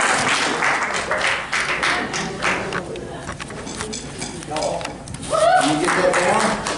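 At a church Christmas program, an audience claps in a fairly busy burst that thins out midway, then swells again with voices and cheering mixed in.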